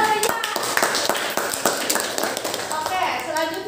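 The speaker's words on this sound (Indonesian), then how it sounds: "Tepuk tangan buat Reza" Students clap together in a classroom, a brisk burst of hand claps lasting a few seconds, with voices talking over and around it.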